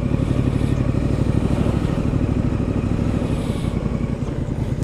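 A 2019 Triumph Street Scrambler 900 motorcycle rides along in third gear, its engine droning steadily and loudly up close, with wind and road noise.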